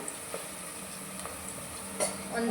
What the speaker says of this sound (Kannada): ಒಂದು ಸೆಕೆಂಡ್ ಫ್ರೈ ಮಾಡ್ಕೊಳ್ತೀನಿ ಈರುಳ್ಳಿನ.